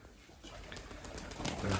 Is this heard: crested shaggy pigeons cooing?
yes